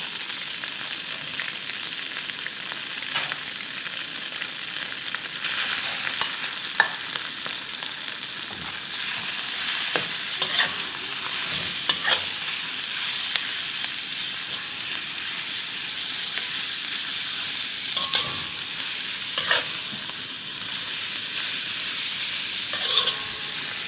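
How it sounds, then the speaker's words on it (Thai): Pork belly stir-frying with red curry paste in a hot pan, a steady close sizzle and hiss with occasional scrapes and stirs, no talking. "พริกแกงเริ่มหอมก็เอาหมูสามชั้นของเราลงไปพัดเลยค่ะ"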